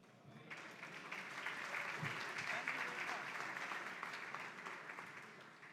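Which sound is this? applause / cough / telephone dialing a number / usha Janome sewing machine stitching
applause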